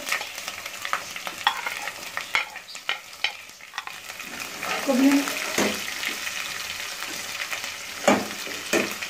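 Green garlic frying in a pan: soft sizzling and stirring with scraping clinks and intermittent crackles, fairly quiet and close.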